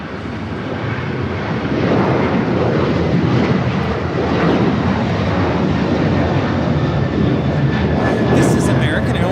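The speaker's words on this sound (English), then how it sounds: "This is American Airlines 1899 taking off to Indianapolis on the 737-800." An American Airlines Boeing 737-800 takes off at Los Angeles LAX, a loud, sustained jet roar building over several seconds, with someone talking over it.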